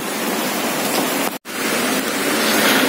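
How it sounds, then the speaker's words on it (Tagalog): Strong storm wind during a typhoon in Camarines Sur roars as a dense, continuous broadband rush, loud and unbroken apart from one very brief dropout near the middle. "Lakas pang konti yung hangin."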